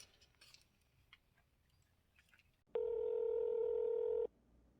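A telephone emits a single clean, steady dialing tone for about a second and a half, loud against otherwise quiet, faint background rustle.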